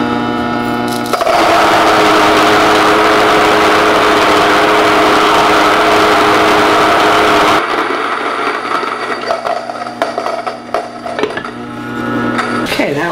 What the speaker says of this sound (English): now we're going to mill up some fresh wheat berries